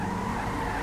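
Tires skid and squeal under hard braking of a car in a driving video game, one sustained close screech lasting the whole moment with engine rumble beneath, no talk.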